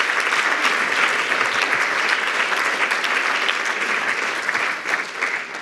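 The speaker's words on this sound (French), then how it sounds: "je pense que vous pouvez vous applaudir si vous êtes dans la salle" An audience in a ceremony hall breaks into sustained, dense applause, loud and even throughout, easing slightly toward the end.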